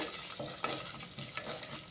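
Tempering spices fry in a clay pot for moong dal charu, giving a faint, soft, steady sizzle with a few light stirring clicks.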